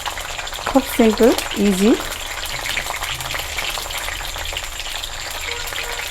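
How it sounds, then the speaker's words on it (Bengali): Dal lentils fry in a pan for laddu, with a steady close sizzle and crackle throughout, and someone talks briefly early on. "আমি বেসন বড়া না করে বা বেসন না বানিয়ে আমি একবারে ডালটাকেই ভেজে নিচ্ছি।"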